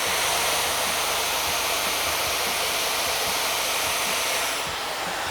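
A hair dryer blows in a loud, steady rush of air while drying hair from underneath toward the roots, continuous for several seconds and easing slightly at the end.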